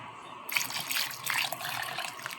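Broth poured into a pot of mung bean soup, a short close splashing pour that starts abruptly and runs steadily for about two seconds.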